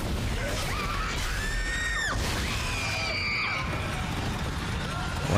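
Screaming creatures and game effects in Dead Space 2, with shrill rising and falling cries over a dense, noisy backdrop of action sounds, loud and continuous with no clear talk.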